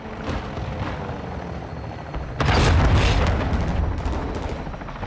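A cruise missile strike lands in Call of Duty with a heavy, booming blast midway that rumbles on over a low background of distant battle noise.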